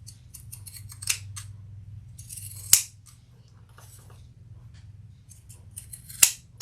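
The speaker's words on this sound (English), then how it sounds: "this is pretty soft vinyl, so I'm just using my pinking shears for it." Pinking shears cutting soft vinyl produce a quiet series of crisp snips and rustles, with two sharp, louder clicks of the blades closing, heard close up.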